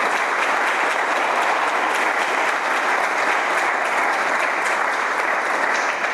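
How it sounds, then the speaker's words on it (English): Sustained round of applause from the audience at a college Hall of Fame ceremony banquet, honoring the catering staff; dense, steady clapping fills the room for several seconds without a break. "If we can give a nice round of applause to the Aramark staff for their efforts tonight."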